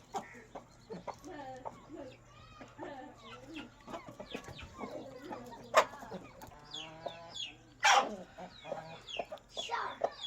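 Chickens, one rooster and ten hens, cluck repeatedly at close range, a busy flock with irregular overlapping calls and a few louder squawks against a low background hum.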